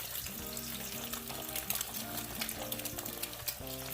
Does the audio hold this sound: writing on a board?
no